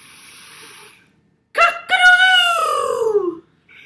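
Voices imitating a rooster, a loud drawn-out cock-a-doodle-doo crow with a falling tail, following a short pause after quieter sound.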